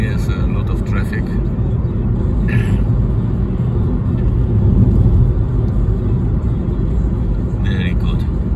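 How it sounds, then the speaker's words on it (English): Steady road traffic on a busy approach road near Tirana airport in Albania makes a continuous broadband rumble and whir of passing vehicles, with brief faint voices now and then. "We have a lot of traffic."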